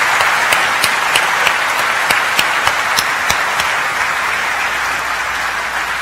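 Audience applause for panelists at a NASA 50th anniversary event, loud and sustained, with sharp individual claps standing out before gradually thinning toward the end.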